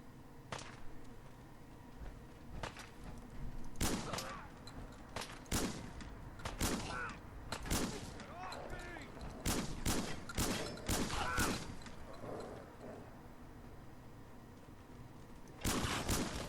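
Bursts of gunfire from a newly acquired gun in Fallout 4, sharp repeated shots in clusters with short pauses between volleys, loud and close, no talking.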